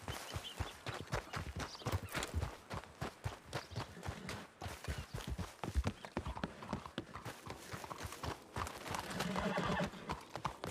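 Galloping horse hooves beat a rapid, loud clip-clop rhythm throughout, with a horse's neigh breaking through partway, close by and with no talk over it.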